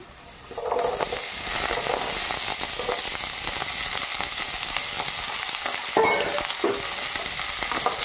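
Loud, continuous sizzling of cut potatoes frying in hot oil, starting abruptly and holding steady, with a few stirring scrapes and no talking.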